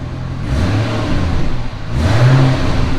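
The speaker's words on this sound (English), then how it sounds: "So go ahead and rev it up a little bit." C6 Corvette V8 with custom cutout valves closed, exhaust routed through stock mufflers, blipped twice up close: two loud, muffled revs rising and falling in quick succession.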